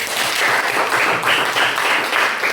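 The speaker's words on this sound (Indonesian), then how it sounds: "kasih tepuk tangan dulu untuk kelompok 1" A class of students claps for a group of classmates, a dense, close round of applause with slight pulsing swells that carries steadily throughout without speech.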